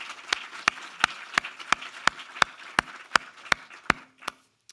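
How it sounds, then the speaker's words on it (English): A dozen sharp, evenly spaced claps ring out at a steady pace and stop after about four seconds, sounding more like a single pair of hands than a crowd, at a Q&A session on Japanese paper films. "So a round of applause for everybody, please."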